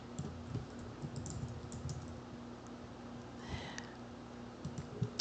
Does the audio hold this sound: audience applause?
no